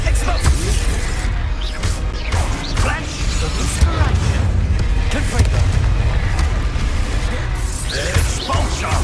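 A Confringo blasting spell goes off in the Hogwarts Legacy video game amid dense, continuous loud combat effects, booms and crashes layered under a voice throughout.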